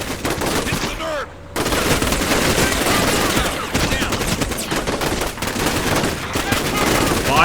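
Sustained bursts of gunfire and rapid machine-gun fire from the tactical war game Combat Mission: Black Sea, loud and continuous, with a brief lull near the start and voices faintly present under the shooting.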